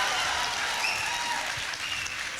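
An audience claps at a Tamil debate show, a dense steady burst of many hands that holds throughout.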